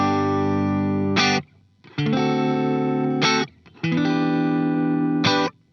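Sustained distorted guitar chords through a Line 6 POD Go with Glitz reverb at 15% mix ring out in three blocks, each ending abruptly with only a faint, short tail before the next.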